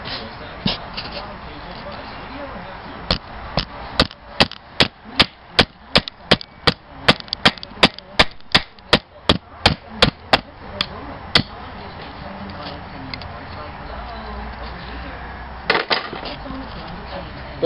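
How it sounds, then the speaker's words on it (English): A hammer strikes metal about twenty times in a steady rhythm, sharp and close, followed by a couple more hits after a pause, with a voice nearby. "I found my hammer so I can show you."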